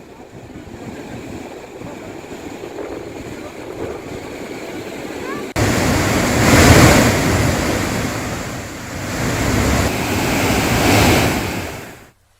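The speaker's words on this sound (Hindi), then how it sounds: "पानी छोड़ा जा रहा है" Water gushes from the opened gates of a dam, a steady, heavy broadband roar that grows louder midway, with wind buffeting the microphone.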